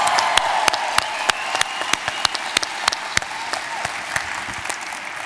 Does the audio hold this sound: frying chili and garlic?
no